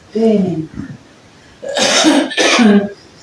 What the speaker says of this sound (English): So I think I'm picking up the coughing